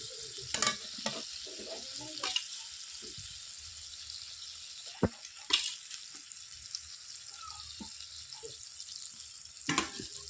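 Pieces of meat dropped into a pan of sizzling cooked-down spice masala, with a low frying crackle, several loud scrapes and clatters of a spoon, and occasional splashy bursts.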